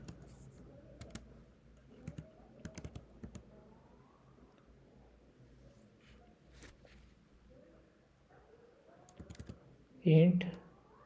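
Quiet clicks of someone typing on a computer keyboard come in short bursts with pauses between them, heard close and faint under soft, low talking.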